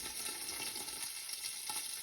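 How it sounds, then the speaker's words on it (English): Pork and chive dumplings sizzle and crackle steadily in a hot pan while frying and steaming, a dense, bright hiss with no voices. "we're gonna fry and steam and kind of at the same time"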